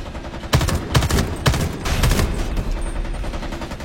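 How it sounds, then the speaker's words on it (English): Video game gunfire crackles in a quick run of sharp shots, four or five distinct bursts about half a second apart over a noisy background. "Is somebody shooting at that?"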